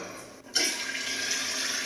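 A urinal flushes in a public restroom, a sudden rush of water starting about half a second in and running steadily to the end, fairly close, with no voices.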